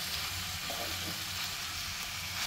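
Capsicum and mixed vegetables for a dhaba-style veg kurma frying in a pan, a continuous even sizzle heard close with no talking.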